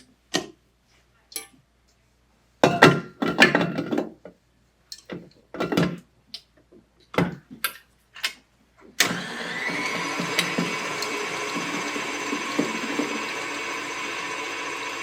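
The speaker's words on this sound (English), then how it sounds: "Get the whisk back on the mixer." A stand mixer fitted with a whisk, mixing brownie batter, switches on after several sharp clinks and knocks of the parts being assembled, then runs with a steady, loud whirring hum to the end.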